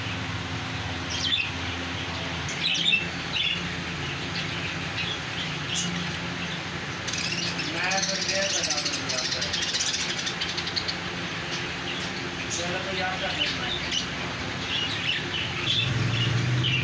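Caged birds at a bird market in Juharabad chirp and tweet in scattered bursts amid busy market background noise and a distant engine hum.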